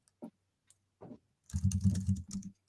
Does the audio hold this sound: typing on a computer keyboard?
yes